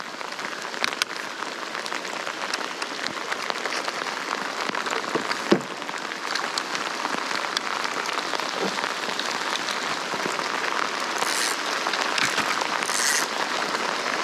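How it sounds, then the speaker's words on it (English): Rain pattering steadily on water and surfaces outdoors while fishing, a dense even hiss with scattered louder drops, no talking. "How hard is this rain gonna be?"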